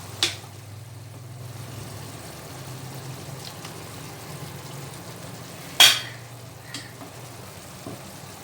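Mango chilli chicken stir-fries in a pan after soy sauce goes in, a quiet, steady sizzle with a few sharp scraping clinks from the spatula, one louder than the rest, and no talking.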